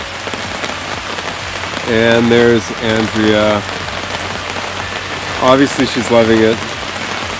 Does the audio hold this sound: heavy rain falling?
yes